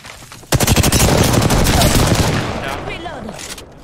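A loud, rapid burst of automatic gunfire erupts in a video game battle and keeps up a fast, steady rattle for about two seconds before tailing off, close and dominant, with a voice briefly audible near the end.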